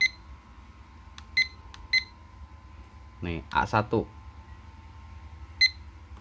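Short electronic button beeps from a Taffware TS-S60-W LED digital desk clock while its alarm is being set: a few sharp beeps, some single and some doubled, spaced over several seconds, with a person talking nearby between them.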